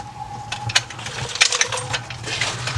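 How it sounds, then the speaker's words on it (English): Two nuts underneath a Ford engine being tightened during timing belt and oil pump work, heard as a few short metallic ratchet clicks and light tool knocks, close by, with no talk. "now what we're gonna do is tighten up the two nuts underneath"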